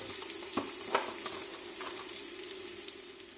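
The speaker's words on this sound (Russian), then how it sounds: "Я люблю сначала лучок. Пускай он поджарится немножко." Chopped onion frying in a pan for soup, a soft, even sizzle with occasional light scrapes and taps of a utensil, close and fairly quiet.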